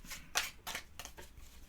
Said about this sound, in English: Mix these up a little bit as best we can when you're only shuffling 4 hard items.